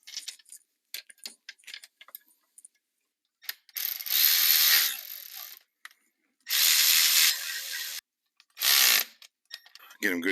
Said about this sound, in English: Get them good and tight with the hand wrench here.